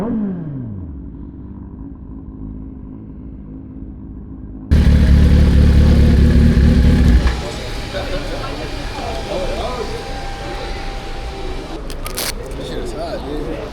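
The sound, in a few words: motorcycle engine revving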